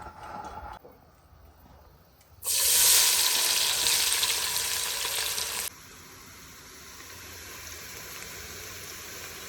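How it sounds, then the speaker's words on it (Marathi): Onions dropped into hot oil on a high flame burst into a loud, steady sizzle for about three seconds, then settle into a quieter, continuous frying hiss. "पहिल्यांदा हाय फ्लेमवरती तेल गरम करायचं आहे आणि त्यात कांदे टाकायचे"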